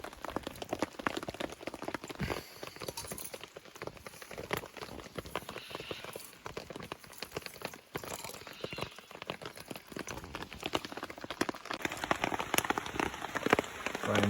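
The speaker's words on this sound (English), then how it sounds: "Rain's getting a little bit heavier now." Steady rain patters and drips on nearby surfaces, a dense crackling texture that grows somewhat busier toward the end.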